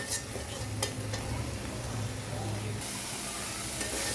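Spice masala for a tilapia fish curry sautés in a pan, a soft steady sizzle with scraping stirs, the hiss brightening toward the end.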